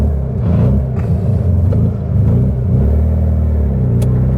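A 1967 Volkswagen Beetle's air-cooled engine on a test drive, a loud, steady low rumble with slight rises and dips in pitch as it pulls through the gears, heard from inside the car with no talk.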